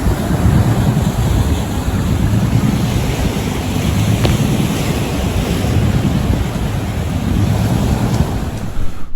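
Surf washes steadily onto a UK beach while wind buffets the microphone, a continuous close roar of breaking waves and gusts with no voices.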